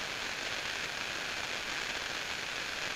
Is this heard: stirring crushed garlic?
no